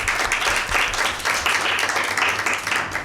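A studio audience at a Mother's Day Bible quiz show applauds a correct answer, with dense, steady clapping from many hands that holds at an even level for about three seconds.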